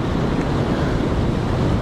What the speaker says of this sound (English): Just be careful of these waves here.